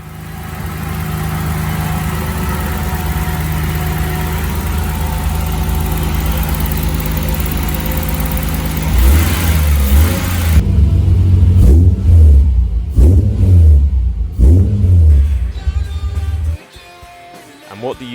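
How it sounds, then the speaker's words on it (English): A rebuilt Jaguar XJS race car engine idles with a steady low rumble, then revs loudly in several sharp bursts, each rising and falling, before dropping back. "now I can present to you the sweetest sound ever heard."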